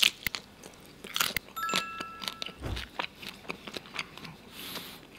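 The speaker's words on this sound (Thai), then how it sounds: "เปลือกของกุ้งก็กรอบสามารถเคี้ยวทานได้หมดทั้งตัวเลยครับ" Someone bites and chews crispy fried whole shrimp, shell and all, coated in tamarind sauce. Loud, close crunches come in irregular bursts with wet chewing between them, and no talking is heard.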